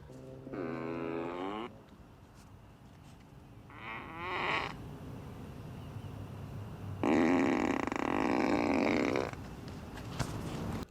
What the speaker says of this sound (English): And you can also put the fart on the outside too